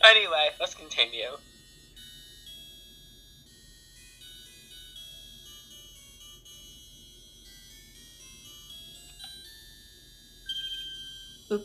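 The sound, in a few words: Godot's phone ringtone in Phoenix Wright video game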